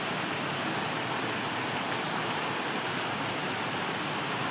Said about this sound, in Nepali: खोला बगिरहेको छ